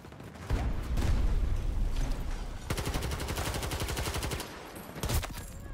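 Gunfire from a powerful gun in the Battlefield 2042 video game, with dense rapid bursts of automatic shots in two long volleys and a short final burst, loud and close amid battle noise.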